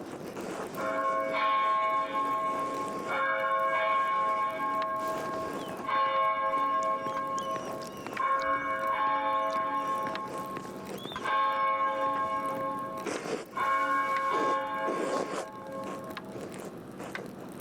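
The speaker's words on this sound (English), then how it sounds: "So that was 6 bells." Church bells in the video game Pentiment toll six times in a steady, resonant sequence, each strike ringing out with a long shimmering decay, loud and full, accompanied by faint background ambience.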